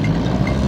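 A modified tractor engine runs steadily with a dense, low rumbling drone and continuous vibration, loud and close throughout the short stretch, with no voices over it.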